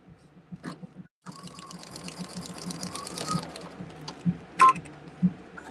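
A domestic sewing machine runs a regular straight stitch at a 3.5 length setting on a quilted practice piece, a steady fast whirring patter that pauses briefly near the start, then resumes with a few louder clicks near the end.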